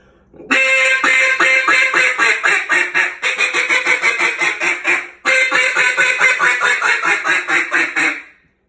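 A duck call blown in a contest-style greeting sequence of rapid, raspy quacks, three greeting calls of descending notes separated by brief pauses, close and alone.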